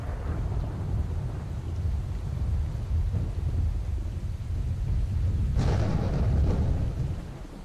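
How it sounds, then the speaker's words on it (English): A thunderstorm with gusting wind, both a real storm outdoors and the in-game storm in S.T.A.L.K.E.R.: Call of Pripyat, rumbles low and steady, swelling into a brighter rushing burst near the end, with no talking. "it's actually storming where I am as well. So I'm getting a double storm sound there"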